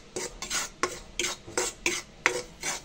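A spoon scrapes through rice flour dry-frying in a pan, making about eight rhythmic, gritty strokes that rasp close and clear with short gaps between them.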